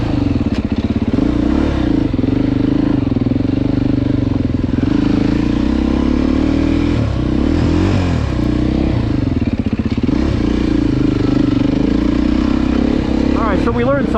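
A Beta 390 RR dirt bike engine runs hard with a steady, loud four-stroke drone that rises and falls through repeated revs. It stays close and continuous, with a brief clattery surge near the end.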